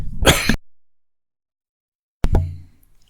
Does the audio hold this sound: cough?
yes